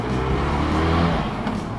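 Benelli TRK 502 motorcycle engine on a test ride, a steady, loud, continuous drone with a low rumbling hum and broadband wind noise, heard up close and without talk.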